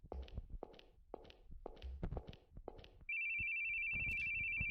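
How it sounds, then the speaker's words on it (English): Footsteps thud along in The Boogie Man, and then a phone starts ringing with a steady, loud electronic tone that carries on while a few more steps sound beneath it. "we hear our phone"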